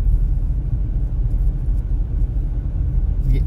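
A large heavy vehicle, such as a snow-clearing tractor or garbage truck, rumbles past on a cold Montreal winter street, giving a loud, steady low engine drone close by.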